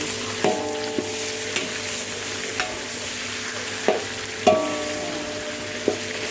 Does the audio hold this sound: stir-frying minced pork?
yes